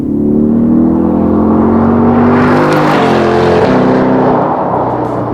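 A Chevrolet C8 Corvette's engine pulls hard in sport mode on a curvy mountain pass road, a loud continuous roar climbing through gears with a brief shift dip, heard from inside with no talk.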